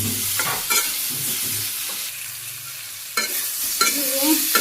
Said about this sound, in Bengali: কষিয়ে নিই